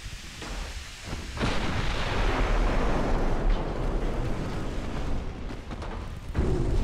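In Ultimate Admiral Dreadnoughts, a torpedo strikes a warship's bow, producing a loud, sustained rumbling explosion that swells after a quieter start and lingers for several seconds.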